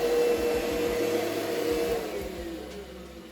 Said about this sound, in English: run a vacuum through it.